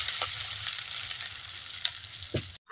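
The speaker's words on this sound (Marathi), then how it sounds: "आता फोडणी ओतून घेतली भातामध्ये." Hot ghee tempered with cinnamon, cloves and black pepper is poured into cooked rice. A steady, close sizzle and crackle of frying runs throughout, with a few sharper pops, and it stops suddenly near the end.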